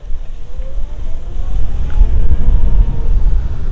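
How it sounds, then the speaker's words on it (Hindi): An Ola S1 Pro electric scooter accelerates in hyper mode, a steady low rumble of road and wind noise swelling louder midway with a faint rising motor whine, no talking. "ये मैंने हल्की सी रेस दी, अब वो देखना है एक्सेलरेशन कितनी तेज़ आती है"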